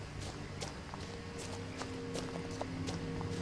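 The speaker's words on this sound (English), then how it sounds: "I hear my footsteps." Footsteps of the player character walking along a long outdoor path in the video game What Remains of Edith Finch, a steady series of soft, fairly close treads over a constant bed of frogs and insect chirps.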